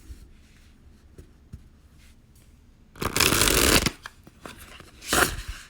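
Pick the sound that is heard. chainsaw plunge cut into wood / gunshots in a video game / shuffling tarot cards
shuffling tarot cards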